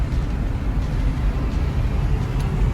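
Ford Falcon cruising steadily at speed, a constant low engine and road rumble from inside the cabin with no change in pitch.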